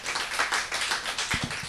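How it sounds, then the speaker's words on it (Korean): An audience claps on request, a brief burst of dense, fairly even clapping that fades into a few scattered final claps, with no talking over it. "박수 한 번만 주세요"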